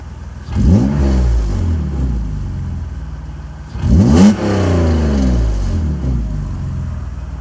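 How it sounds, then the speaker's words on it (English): A 1991 Mercedes 190E with a leaky exhaust of stock downpipes into an X-pipe, revved hard twice, each sharp climb falling back to a loud, rough, steady drone, close and with no talk. "Exhaust is kind of loud."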